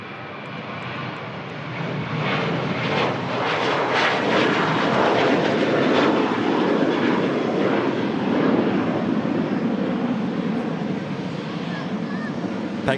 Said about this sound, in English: Pegasus just taxiing in